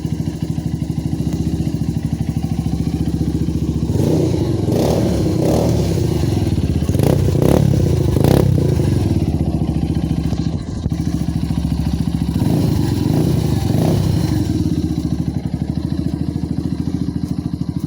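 A motorcycle that has just been started idles with a steady, throbbing rumble close by. Light clatter and thumps come through the middle stretch, and the engine keeps running to the end without speech.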